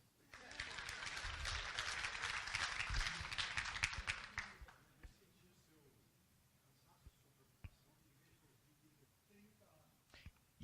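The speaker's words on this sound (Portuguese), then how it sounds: "uma salva de palmas, por favor" An audience at a panel session breaks into applause. It is dense and fairly loud for about four seconds, then stops abruptly, leaving quiet room tone with a few faint knocks and soft speech.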